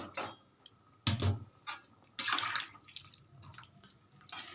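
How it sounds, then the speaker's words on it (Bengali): Hot water poured into a pot of Bengali chicken curry, heard as a few splashing, gurgling bursts with short pauses between them, close by and moderately loud. "মশলা ধোয়া গরম জলটা এর মধ্যে দিয়ে দেব।"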